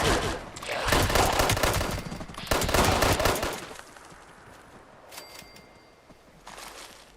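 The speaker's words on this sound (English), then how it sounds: "That's bullet firing." Gunfire in the video game Fallout 76 crackles in two dense bursts of rapid automatic shots, fairly loud, then fades to sparse scattered shots near the end.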